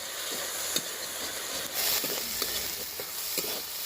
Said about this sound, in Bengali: এই চিংড়ি মাছ ভাজার মধ্যে আদা রসুন বাটা একটু দিয়ে দেবো